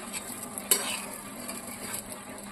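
An egg omelette fries in oil in a pan with a light steady sizzle, and a single sharp spatula scrape on the pan edge stands out near the start, with no voices.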